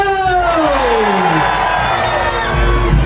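A large festival crowd at a religious street dance celebration roars and cheers together on an announcer's call, a dense, loud wash of shouting voices that swells and sustains without pause.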